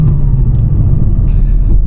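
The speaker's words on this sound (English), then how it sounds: "when you get into the mid to upper range of the rev of your power band, it actually sounds like a Porsche" A Porsche engine drones loudly with a deep, steady rumble while the car drives, heard from inside the cabin with no talking.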